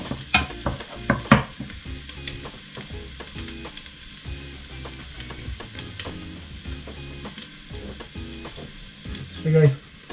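Oxtail frying and sizzling in a pan with softened onions for kare-kare, a steady hiss broken by stirring scrapes and a few louder clatters near the start and the end.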